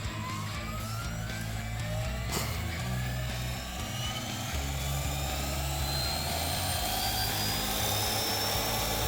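An MD500E-style 450-size RC helicopter spins its rotor up with a loud, continuous mechanical whir and a rising pitch, close by and steady throughout.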